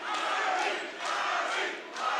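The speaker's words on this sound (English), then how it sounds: "Crowd behind us, urging Harry Marple on into this third round" Crowd at a professional light welterweight kickboxing fight cheering and roaring steadily, a dense continuous wall of voices swelling in waves without pause.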